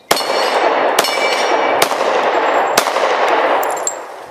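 Four sharp pistol shots from a Glock fired at a 2-liter bottle target outdoors, spaced about a second apart, each loud crack followed by a ringing tail over steady background noise.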